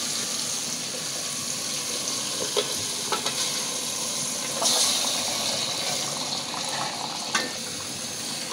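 Beef being added to spice paste in a pan and frying, with a steady, busy sizzle across the whole stretch, broken by a few sharp stirring clinks from a utensil against the pot.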